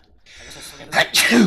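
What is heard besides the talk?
sneeze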